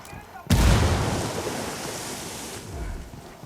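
A single loud frag grenade explosion in the video game Ghost Recon Wildlands, with a sudden heavy boom that fades slowly into a long rumbling tail.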